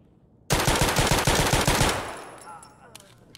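A loud close burst of automatic fire punches through a wall in Escape From Tarkov, about a second and a half of rapid rhythmic shots, then a ringing decay with faint clicks.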